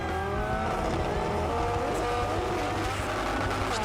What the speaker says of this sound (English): Rod Harvey, in his Rayglass-sponsored 1200 Datto Coupe. SR20 motor making 700 plus horsepower.